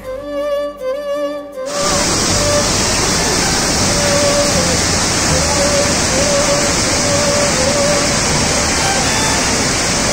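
Waterfall spray at a hidden spot near Anakulam in Munnar roars as a loud, steady broadband wash after a brief opening of other sound, filling the whole clip without letup.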